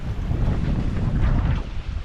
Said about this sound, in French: ce matin il y a un fort vent